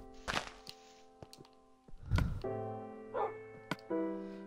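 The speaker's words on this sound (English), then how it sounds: "I have a doggy trapped in a hole so you won't get killed." Minecraft dog (wolf) barks a few times in short separate bursts, moderately loud, mixed with game thumps and tonal music or ambience, no talking.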